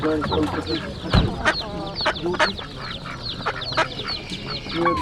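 Ducks, including muscovy ducks, quack repeatedly amid clucking poultry at an outdoor animal market in Łomża, Poland, a busy chorus of birds with a sharp thump partway through and murmuring voices in the background.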